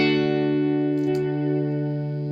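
Dry electric guitar signal with no effect added, ahead of an Artifakt Lo-Fi Elements µVerb pedal. One sustained chord rings steadily and loudly, with faint string noise partway through.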